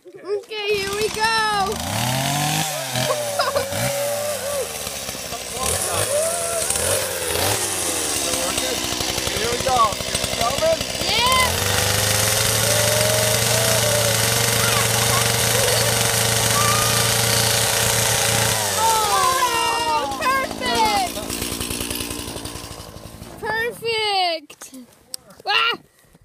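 A chainsaw revs up, then cuts steadily through an Easter egg, a loud, sustained engine drone that climbs and holds before winding down, with voices chattering at the start and end.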